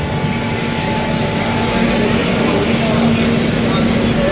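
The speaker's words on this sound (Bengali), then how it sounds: "জয় জগন্নাথের নাম করে এবার ট্রেন ছাড়বে" The 12881 Puri Garib Rath SF Express, running from Shalimar to Puri, rumbles with a loud, steady, unbroken roar as it sets off.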